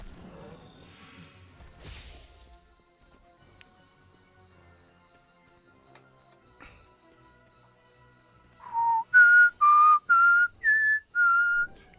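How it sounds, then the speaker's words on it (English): Someone whistles the X-Files theme tune, six clear, loud sustained notes near the end after a quiet stretch with a few soft knocks and a swish. "for whistling the whole little tune for the X-Files"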